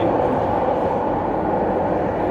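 A Toronto Line 5 light rail train runs at speed, close to 80, with a loud, steady broadband rumble and roar heard from on board, constant throughout with no breaks.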